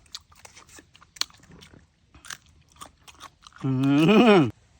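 Someone bites and chews fresh sweet bamboo shoot with soi ju, a raw beef dish, making several close, sharp crunches and wet chewing sounds, then gives a loud, drawn-out hum of satisfaction.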